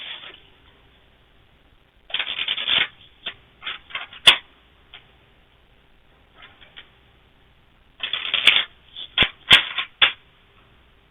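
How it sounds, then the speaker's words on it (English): Oracle cards are shuffled and pulled from a deck in quiet bursts of papery riffling and flicking, with short soft taps and pauses between. "Next we're going to pull 3 cards from Divine Abundance"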